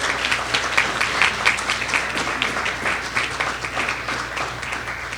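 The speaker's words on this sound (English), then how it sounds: "Please give them a round of applause" An audience at a high school debate final gives a round of applause, loud and continuous clapping from many hands that stays steady across the whole stretch.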